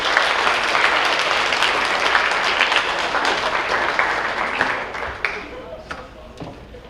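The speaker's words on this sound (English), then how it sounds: "Let's give a round of applause to these most valuable athletes for their team." Audience applause at a high school athletic awards night, a dense burst of clapping from a crowd that stays strong for several seconds and then tapers off into scattered claps.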